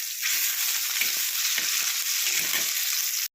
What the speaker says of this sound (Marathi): आता आपण मुशी पलटी करूया।